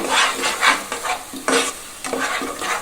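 Masala spice paste fries loudly in a pan for a chicken curry, with repeated scraping strokes of a spoon stirring it through a continuous close sizzle.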